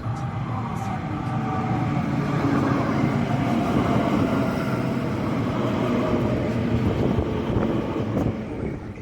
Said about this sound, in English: you can actually see the trains coming in